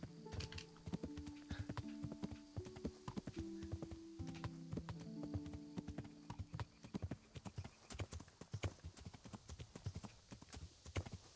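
Horse hooves clip-clop at a steady trotting rhythm in the video game Kingdom Come Deliverance, a clear moderately close patter that continues alone, with a few musical tones early on.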